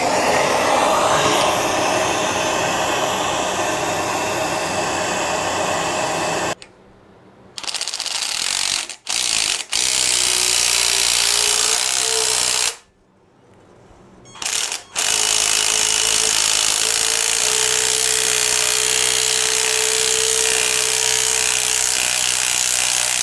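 A torch heats the timing chain sprocket on a 2006 R53 Mini Cooper S during a timing chain replacement, giving a loud, steady roaring hiss that cuts out briefly twice, then resumes.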